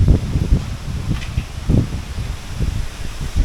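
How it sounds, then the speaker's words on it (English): Wind gusting outdoors, heard as uneven low buffeting rumbles against the microphone with a soft rustle like leaves, loud and close, rising and falling in irregular pulses, no voices. "trying to get out of this wind"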